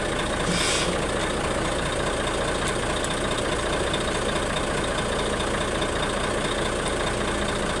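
A Mitsubishi Super ten-wheeler truck engine idles loudly and steadily, with a brief hiss of air brakes released near the start as the pedal is pressed, on a truck with a punctured brake steel tube.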